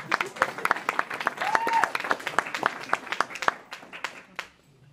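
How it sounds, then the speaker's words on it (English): Small coffee house audience clapping for a performer's father, sparse individual hand claps in an uneven rhythm, a few people rather than a big crowd, with a brief voice sounding in the middle. "Can we have a round of applause for my father?"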